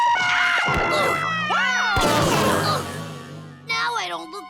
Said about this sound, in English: The scream screen always surprises Goo.